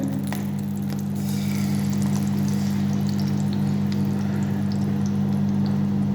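Cooking oil poured into a frying pan for an omelette made with beaten eggs, turmeric, chilli powder, salt and pepper: a steady, continuous pour with a low hum underneath and faint trickling on top, no talk.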